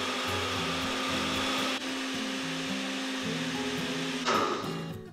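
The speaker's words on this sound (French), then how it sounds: "On va tranquillement augmenter la vitesse de notre mélangeur pour obtenir une pâte à crêpes qui est très très lisse" Electric mixer whirring steadily through crêpe batter, its motor hum loud and continuous, with a shift in pitch near the end as the speed is raised.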